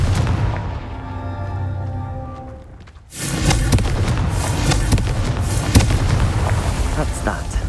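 Confringo fire-blast spell in Hogwarts Legacy, with a humming charge-up that drops to near silence, then a sudden explosive burst followed by continuous crackling, rumbling blasts and debris, loud and close.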